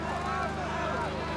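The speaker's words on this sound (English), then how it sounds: "climb aboard the Andover of the Queen's flight as the engines are revved up" Engines of an Andover aircraft of the Queen's Flight revving up, a steady droning hum with a low throbbing pulse, continuous and fairly loud throughout.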